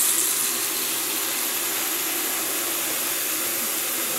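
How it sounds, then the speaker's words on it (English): Tap water runs steadily into a bathroom sink as it fills, a continuous broadband hiss and splash heard up close and alone, with no talking. "I'm gonna fill it up with water."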